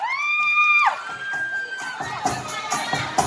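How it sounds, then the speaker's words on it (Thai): Concert crowd at a Makro store event in Nakhon Ratchasima cheers and shouts loudly, with children's voices and whoops, while sustained musical tones ring out beneath the noise. "ขอเสียงตบมือด้วยอีกหนึ่งครั้งด้วยครับ เชียร์นะครับ"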